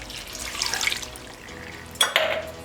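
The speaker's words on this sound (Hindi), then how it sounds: "आधा गिलास पानी डाल देंगे," Half a glass of water poured into a pressure cooker holding mutton with onion, tomato and spices for achari mutton, a short splashing pour near the end, following softer sink-like liquid sounds.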